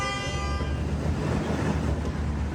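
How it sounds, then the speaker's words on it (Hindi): Car horns honk during a traffic jam in downtown Los Angeles, on South Broadway near Spring Street. Several sustained horn tones sound close together over a steady roar of street traffic in the first half, then the honking fades into the traffic noise. "हॉर्न बज रहे तेज तेज, जाम लगा जिस तरह दिल्ली में हो"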